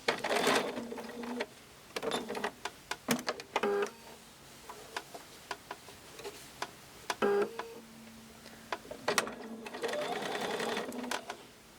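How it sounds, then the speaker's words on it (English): A sewing machine stitches pairs of quilt fabric strips for a rail fence block with a quarter-inch seam, running in short close bursts separated by pauses and small clicks. "I'm just going to stitch along one side with a 1/4 inch seam"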